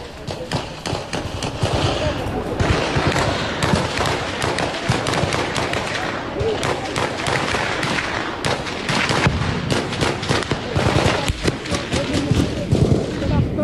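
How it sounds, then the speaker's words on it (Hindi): Gunfire during an armed encounter with militants in a forest area of Doda, Jammu and Kashmir: dense, continuous crackling bursts of shots throughout, fairly loud, with a voice talking underneath. "अगर आप ध्यान से सुनेंगे तो गोलियों की आवाज भी आपको सुनाई देगी"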